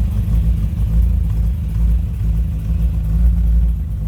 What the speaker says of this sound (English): I want to slip around to the rear of this so you can hear that exhaust note.